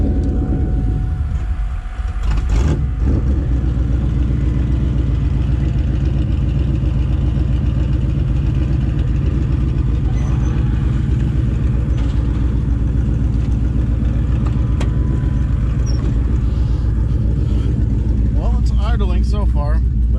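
A New Edge Mustang project car with a nitrous setup idles steadily up close, its low engine drone continuous throughout, with a brief voice near the end.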